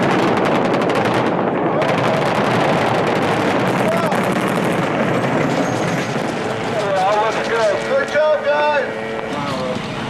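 Rapid bursts of simulated gunfire from actors firing blanks while moving during a film shoot, loud and dense, rattling continuously with voices calling out over it and a brief high whining tone near the end.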